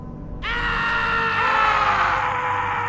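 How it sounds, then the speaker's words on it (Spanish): Harrowing screams of animal tamers trapped in a room, a drawn-out high wail that bursts in sharply and holds loud and steady, with no talk. "escuché los gritos desgarradores de los domadores que aún seguían en la sala"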